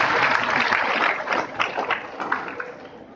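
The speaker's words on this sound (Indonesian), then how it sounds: "Tepuk tangan dulu lah." An audience at a Ramadan religious gathering claps in a dense, continuous burst of applause that stays loud, then gradually thins toward the end.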